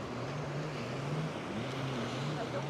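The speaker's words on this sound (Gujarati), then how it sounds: "જો સ્પીડ બોટ" A speedboat engine drones steadily off a beach in Langkawi, over broadband wind and water noise, the hum shifting slightly in pitch as the boat moves.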